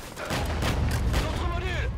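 Gunfire in the Halo video game, a dense, loud burst of rapid shots and booming blasts filling the whole moment, with a voice talking over the battle.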